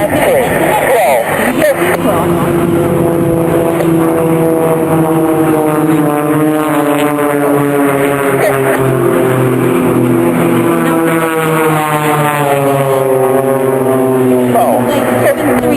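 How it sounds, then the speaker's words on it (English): Display aircraft doing barrel and aileron rolls at the Duxford autumn air show, the engine drone rising and falling steadily throughout, loud and sustained, while a commentator talks over it the whole time. "The back 2 men are going to barrel roll, the inside 2 men are going to aileron roll"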